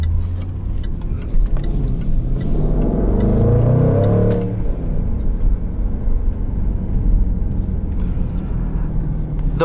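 A 2019 Jaguar F-Pace SVR accelerates in dynamic mode, its engine rising in a loud, sustained growl that swells around the middle, then settles into a steady lower drone inside the cabin.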